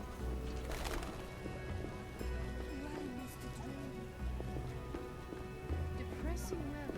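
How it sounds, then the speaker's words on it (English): Rain in The Witcher falls as a steady patter on surfaces, a constant wash of drops under the game's other sounds and low voices talking. "It's raining, but it's not a lot of cloud."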